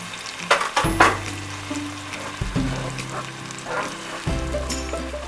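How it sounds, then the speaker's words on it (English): Pork red curry sizzles and fries in a pan while it is stirred constantly, a steady crackling hiss broken by scraping pushes of the spoon, close and alone. "And you want to constantly stir this. You cannot let it rest or it will burn."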